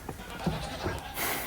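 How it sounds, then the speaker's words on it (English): Young goat kids bleating in a goat enclosure, a few short, soft bleats close by over a low background murmur. "Goat kids frolicking in a goat enclosure."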